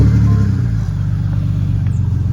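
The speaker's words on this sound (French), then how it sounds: "On va se quitter sur le joli petit son du 6 cylindres straight pipe." A BMW 325i E92 six-cylinder engine with a straight-pipe exhaust sends out a steady deep rumble, close and loud, holding a low drone without a clear rev rise.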